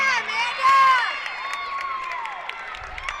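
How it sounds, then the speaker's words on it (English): Team and crowd cheering after a women's college gymnastics routine in a Maryland arena, a broad, sustained roar of shouts and whoops with a loud swell early on, while a voice talks over it. "Again, big cheers from the team, from the crowd"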